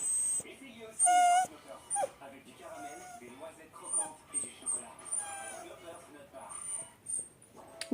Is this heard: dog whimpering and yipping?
yes